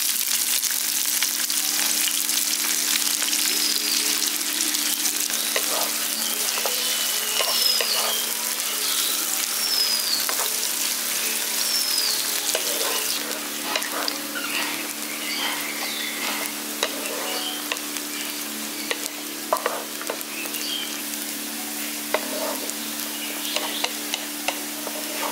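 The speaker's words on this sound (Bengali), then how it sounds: "পেঁয়াজটা এখানে লালচে করে ভেজে নিয়েছি।" Two chopped onions sizzle steadily in a pan of hot oil with whole spices for a Bengali potol and besan dish, a dense continuous crackle with occasional stirring scrapes, close and unbroken, with no talking.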